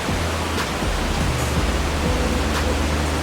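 A river runs beside an outdoor cooking spot in Jamaica, giving a steady, broadband rush of flowing water that holds even and unbroken throughout, with no one speaking.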